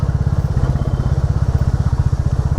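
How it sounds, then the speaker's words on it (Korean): Royal Enfield Classic 350 motorcycle exhaust at idle, a loud, close, steady thumping single-cylinder pulse with even rhythm and no talking. "ASMR처럼 클래식 350 배기음 한번 보시고"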